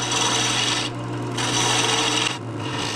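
A woodturning tool cutting into a spinning wooden piece on a lathe near the parting-off point, a loud continuous rasping scrape that briefly eases twice.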